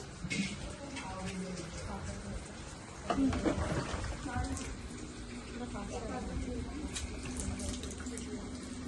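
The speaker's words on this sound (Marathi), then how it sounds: "आमचं बिट्टू आंघोळ करतोय इथे बाहेरच करतोय पाणी आलंय" Tap water running outdoors for a bath at a family home, a continuous splashing flow close by with people talking over it.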